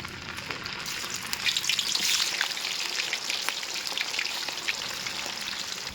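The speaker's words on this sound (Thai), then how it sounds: "ปลานินหนึ่งตัว ใส่แป้งทอดกรอบลงไปหนึ่งช้อนโต๊ะคลุกเขาให้เข้ากัน แล้วนำไปทอดให้กรอบเลยครับ" A whole tilapia coated in crispy batter flour deep frying in hot oil, a dense, steady crackling sizzle heard close and alone throughout.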